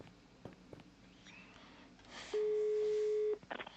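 A phone call being placed in the Agatha Christie's Murder on the Orient Express PC game: a few faint clicks, then a steady electronic tone lasting about a second, followed by a short burst of ringing.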